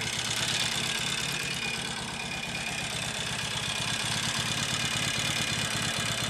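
A Norton Commando 850 motorcycle in the early stages of recommissioning idles steadily at close range, its engine beat even and continuous throughout, with no voices.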